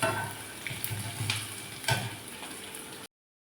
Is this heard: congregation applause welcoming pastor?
no